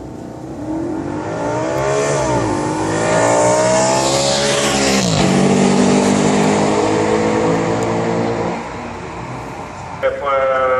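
A Porsche Cayman with a stock 320-horsepower engine and stock exhaust revving loudly up close, the engine climbing and falling through two long rev sweeps before settling back down near the end.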